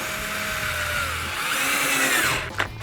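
A cheap cordless drill whines as it drives a screw into wood, its motor pitch rising and sagging under load for a few seconds before it cuts off with a brief clatter, loud and close.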